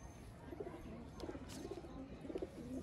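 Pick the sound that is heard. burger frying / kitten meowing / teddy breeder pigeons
teddy breeder pigeons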